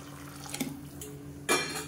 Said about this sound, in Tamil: இப்போ நல்லா கொதிக்க ஆரம்பிச்சுட்டு தண்ணி சேர்த்துக்கலாம்.